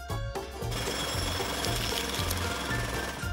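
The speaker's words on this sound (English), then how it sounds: "I'm peeling paint off." Paint is peeled off in a bank renovation video game, a loud, rapid mechanical rattling buzz that repeats in steady pulses, closely heard, with no speech over it.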